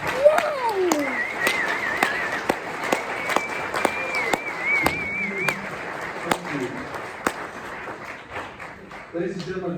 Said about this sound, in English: Please join me now in recognizing them and everybody else with a huge round of applause